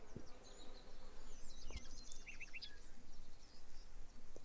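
Bees buzz steadily in the Lumberjack's Dynasty video game, a soft continuous drone with faint chirping birds in the background ambience.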